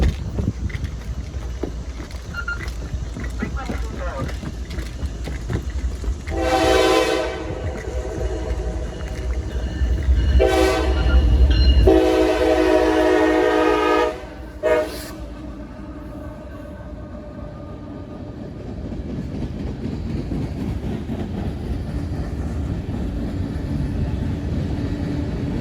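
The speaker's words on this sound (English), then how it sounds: "Oh, I hear the train." A coal train passes near a CSX interchange, its rumble steady underneath while a loud, harmonic horn blasts in several long and short calls midway, then the rolling wheels and cars continue alone.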